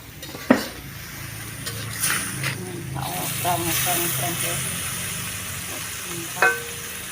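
Jamur selo mushrooms cook in a pan with a soft sizzle, a spoon scrapes and stirs, and utensils clank sharply a couple of times. People talk intermittently over the cooking sounds.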